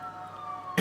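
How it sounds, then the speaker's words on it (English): A distant emergency siren holds a faint, steady wailing tone, then a short, louder burst of noise cuts in near the end; no one speaks. "I hear the sirens coming in."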